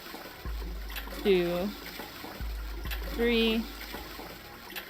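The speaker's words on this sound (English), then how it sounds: "By flushing some toilets." Toilets flush in the Zero Escape 999 video game, two separate rushing bursts of water a couple of seconds apart, each with a short gurgling tone, while a man counts aloud over them.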